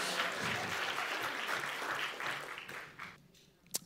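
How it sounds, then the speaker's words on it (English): Audience applause at a talk on Indigenous regenerative food and land management, a moderate wash of clapping that thins out over a few seconds and dies away near the end. "give them a round of applause as well."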